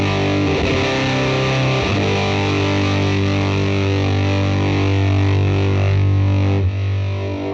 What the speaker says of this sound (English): This one has a big, bold, fuzzy sound.